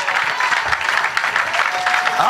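A church congregation at an Easter Saturday service applauding, dense sustained clapping from many hands filling the room, with voices mixed in.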